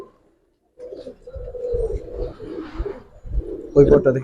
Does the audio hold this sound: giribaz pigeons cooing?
yes